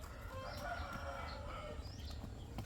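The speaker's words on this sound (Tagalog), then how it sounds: "Nah, naunsa man ning manok?" A chicken clucks and crows nearby at moderate volume over a steady outdoor background, with brief wing flaps and no talk.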